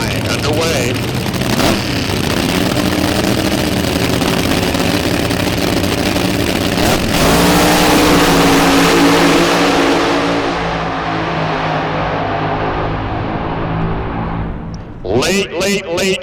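A nostalgia drag racing car makes a qualifying run, its loud engine roaring and fading down the strip over the whole stretch, with a commentator's voice talking over it.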